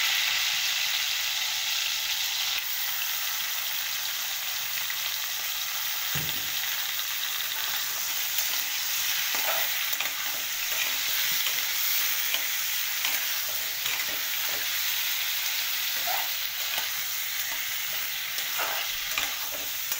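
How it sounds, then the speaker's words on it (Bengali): Chicken pieces fry lightly in hot oil for a dhaba-style curry, a dense continuous sizzle holding steady throughout, with occasional soft stirring knocks and scrapes near the pan and no talking. "তেলের মধ্যে চিকেনগুলো হালকা একটু ভেজে নেব।"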